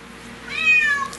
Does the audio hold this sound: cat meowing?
yes